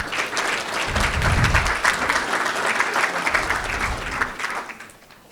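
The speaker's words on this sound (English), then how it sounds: "Please join me in another round of applause for these outstanding educators." Sustained applause from the audience at a San Angelo ISD school board meeting honoring educators, dense steady clapping with a few low thumps, tapering off at the end.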